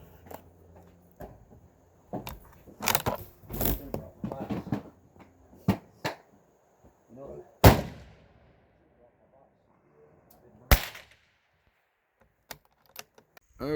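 Rifle shots from a Ruger with Williams fire sights fired at a target, a handful of sharp separate reports spaced irregularly, with quieter clicks and handling noises between them.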